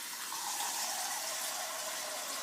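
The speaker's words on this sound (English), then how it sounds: "I'm going to put on a pot of hot water on, just so that I can have a nice cup of tea whilst I'm cooking for you" Steady hiss of water running into a cooking pot for tea, a continuous even rush with no talking.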